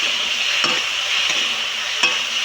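Potatoes and eggs frying in a pan for homemade chow mein crackle with a steady bright sizzle, broken by three short scraping strokes of a spatula stirring the mixture, with no voices.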